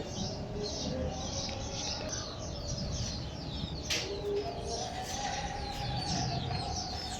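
Small birds and pigeons in an open rooftop aviary with a perch branch and aluminium pipe perches, giving steady overlapping chirps and tweets with faint cooing, moderately distant and continuous throughout.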